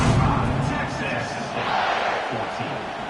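A home football crowd cheers at a Texas State game, a broad, sustained roar of many voices with shouts rising out of it, loud and continuous and partly mixed with talk.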